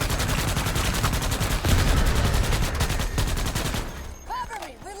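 Video game gunfire rattles out in a dense, loud burst of rapid automatic shots lasting several seconds, then cuts off as other game sounds and a brief voice take over.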